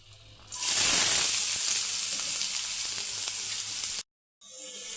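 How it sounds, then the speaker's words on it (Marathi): Onion drops into hot oil in a kadai with a sudden loud burst of sizzling that settles into a steady, close crackle, then cuts off briefly near the end before resuming. "आता कांदा आपल्याला व्यवस्थित फ्राय करून घ्यायचा आहे"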